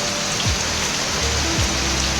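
Heavy rain pours down on a farm field, flooding it, in a dense, unbroken roar of drops hitting the ground, loud and steady throughout.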